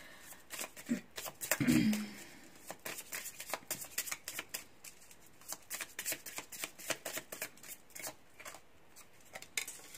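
Cards shuffled for a reading make a long, steady stream of soft, close riffling flicks, with a short muffled bump near the start.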